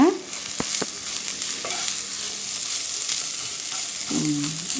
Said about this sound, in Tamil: இந்த மாதிரி எண்ணெயிலேயே இப்படி பெரட்டிக்கலாம்.